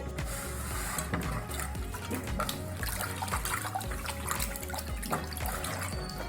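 An iron tawa is rinsed under running water, with splashing, trickling and irregular clattering and scrubbing of the pan close by, moderately quiet with no voices.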